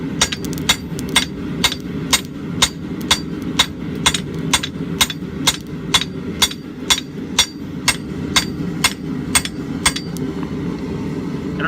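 A blacksmith hammers hot steel on an anvil while forging a rounding hammer by hand, giving sharp ringing blows in a steady rhythm of about two per second, loud and close, over low background noise.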